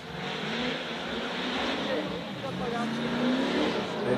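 A drift car at a drifting event on the plains accelerates toward the initiation cones, a loud revving engine rising in pitch, with an announcer's voice over it.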